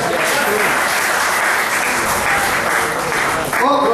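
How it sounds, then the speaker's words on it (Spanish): A church congregation applauds at a Spanish-language sermon, a dense, loud sustained clapping that fills the room, with voices mixed in and a brief dip near the end before the applause resumes. "¿Cuánto puede dar un aplauso al Señor?"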